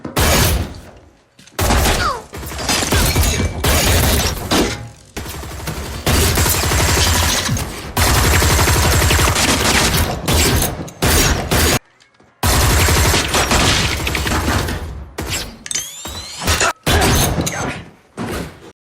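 Gunfire erupts in a film scene during a suspicious encounter at a hotel, loud bursts and shots mixed with thuds and slams, broken by brief pauses and layered with dramatic sound effects.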